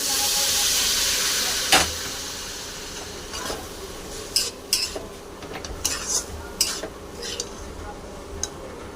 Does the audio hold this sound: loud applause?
no